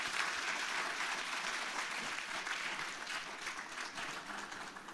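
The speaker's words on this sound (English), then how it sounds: "Can we have a round of applause for all the panelists?" Conference attendees give the panelists of a carbon markets discussion a round of applause, heard as a quiet, distant, unbroken patter of many hands clapping.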